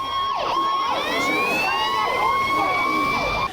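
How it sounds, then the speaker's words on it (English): A miniature fire engine on a model railway layout at Hamburg's Miniatur Wunderland races to a dockside blaze. Its siren is loud and close, wailing in steady repeating sweeps roughly every second. "A fire engine rushing to a dockside blaze."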